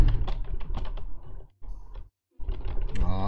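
Computer keyboard typing during a German Yooka-Laylee game stream, a dense run of quick clicky keystrokes that stops briefly, then resumes with a short break of silence in between.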